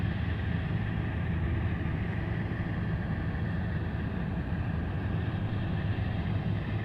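A roaring aircraft engine drones steadily as a plane climbs away after takeoff from Anchorage's international airport, a loud, broad, unbroken rumble heard from the ground.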